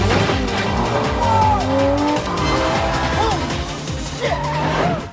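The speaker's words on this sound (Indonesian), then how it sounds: "Smith pun mengambil paksa mobil Lamborghini milik warga" A Lamborghini sports car races and skids in a film scene, engines roaring throughout with repeated tire squeals and sliding screeches over a loud, continuous driving din.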